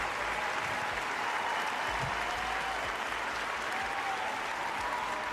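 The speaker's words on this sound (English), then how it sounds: "Can I get some more applause?" A loud, sustained wash of applause, dense and unbroken with even loudness from start to finish, with a few low thumps underneath.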